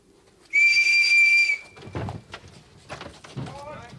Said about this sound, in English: I'm just going to blow my whistle